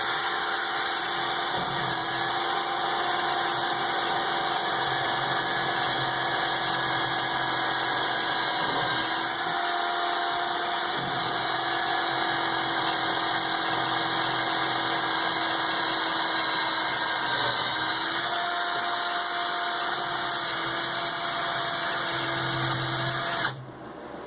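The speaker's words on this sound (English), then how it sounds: "We drill from this side back through to that side, and we're good." A power drill runs steadily and loudly for the full stretch while boring through a board held against a backer board, its motor tone holding even and dipping slightly in pitch once or twice as it bites, then cutting off abruptly at the end.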